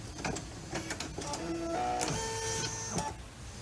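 An embroidery machine stitches out a grain line for a doll pattern piece, a continuous mechanical whir with rising and falling motor tones and rapid needle ticking, close and steady.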